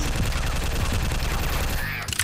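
A quick burst of rapid gunfire from the Slendrina Must Die video game, loud and close, fading out at the end.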